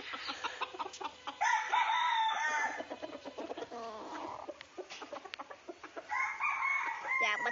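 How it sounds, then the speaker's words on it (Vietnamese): Roosters and chickens in Tay Ninh crow and cluck close by, loud and repeated, with long drawn crows at the start, middle and end and choppy clucks between, over a quiet background. "cái con gà đó."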